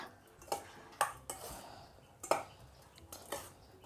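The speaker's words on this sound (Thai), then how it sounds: "แล้วก็ทำการคลุกนะคะ" Seafood larb being tossed with chili powder and toasted rice in a bowl, with several spaced clinks and scrapes of a utensil against the dish, quiet and close, no talking.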